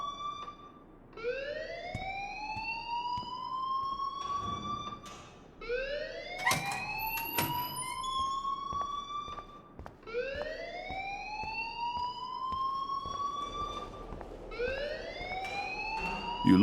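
Repeated electronic alarm in the Life is Strange video game, rising whooping tones cycling roughly every four seconds, loud and steady with background game ambience and a few thumps.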